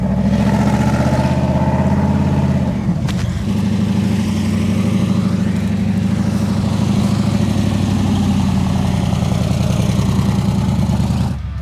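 Rock crawler 4x4 buggy with rear steer engine running steadily for the whole stretch, a loud mid-pitched drone with a brief shift in tone early on, no talking.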